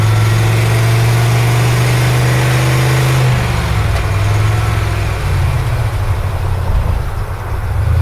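The 5.8L engine of a 1990 Ford E-150 Econoline with an E4OD transmission that will not shift into 3rd revs loudly and holds high. A deep drone sits close, then its pitch drops about halfway through.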